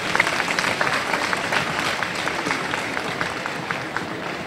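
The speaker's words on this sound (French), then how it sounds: "Un grand applaudissement pour les trois trophées gustatifs." Audience applause at a chocolate fair awards ceremony for cocoa trophy winners, steady, even clapping from a crowd that holds at one level for a few seconds with no talking.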